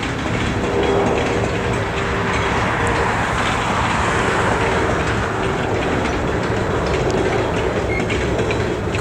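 Norfolk Southern Herzog railcar train rolling over jointed rail in Forest Park on the former Central of Georgia line, a loud steady rumble with wheel clatter continuing throughout, close by and without talk.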